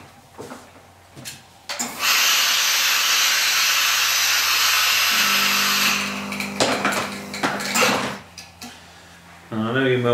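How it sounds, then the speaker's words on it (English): A handheld steamer hisses in a long, loud continuous burst while shaping a wet felted fedora hat, then cuts off, followed by scattered knocks and brief talk. "I'm going to give it a quick steam."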